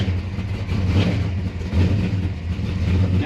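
A car engine cranked over and revved, a loud rough rumble that rises and falls in uneven surges up close, with no voices over it.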